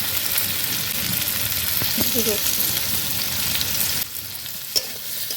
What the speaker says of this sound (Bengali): আমি ভালো করে সবজিগুলো ভেজে নেব।